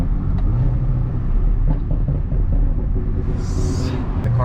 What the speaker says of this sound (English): The car is finally tuned and running.